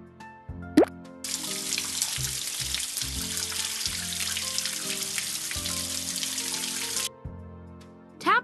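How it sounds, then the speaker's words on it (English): Water runs from a tap in a PAW Patrol mobile game as a pup's paws are rinsed, a steady cartoon splash lasting several seconds between short chime effects. "Let's rinse the pup's paws under the water to get them wet."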